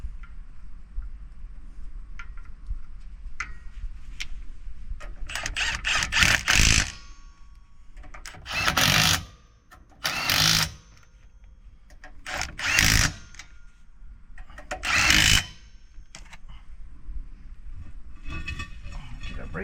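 An impact wrench tightens bolts on a camper's suspension in short bursts, about five loud rattling hammering pulses spaced a couple of seconds apart over quiet shop noise.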